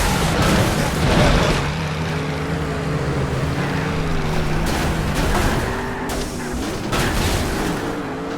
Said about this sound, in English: The smashing of glass, the crunching of metal as cars collide into one another.